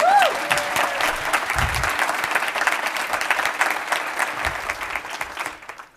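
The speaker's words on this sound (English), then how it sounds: "Please give her a round of applause." An audience at a community keynote address gives a round of applause after an introduction, a full steady wash of clapping from a sizable crowd that fades out over the last second.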